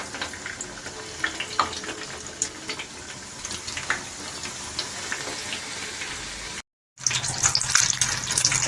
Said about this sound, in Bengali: দেখো মাছগুলো আমি এইভাবে ডিপ ফ্রাই করে দিয়েছি।